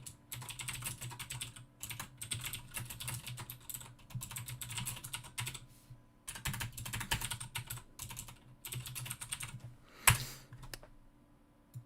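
Bursts of rapid keystrokes on a computer keyboard, close and crisp, broken by a few short pauses, with one sharper key hit near the end.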